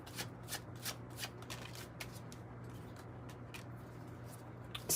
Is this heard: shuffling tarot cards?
yes